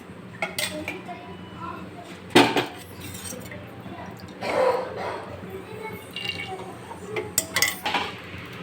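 A cooking pot is set on a kitchen stove while preparing soya chunk pulao, giving sharp metallic clanks and clinks, one loud knock among lighter taps, with a person talking.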